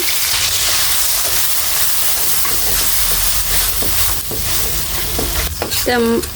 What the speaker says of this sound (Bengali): মশলাগুলো ভালোভাবে কষে নিব